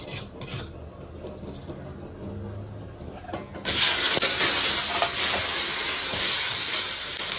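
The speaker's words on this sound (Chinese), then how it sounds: "我们要把这个葱姜、花椒、大料、白芷、香叶下锅炒一下" Scallion, ginger, Sichuan pepper, star anise, angelica root and bay leaves hit hot oil in a wok, breaking into a loud, steady sizzle and hiss with stirring scrapes after a quieter opening of handling noises.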